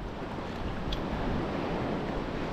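Early-morning sea waves wash against the shore near a small islet in a constant, near, fairly loud surf roar with some wind noise; no talking.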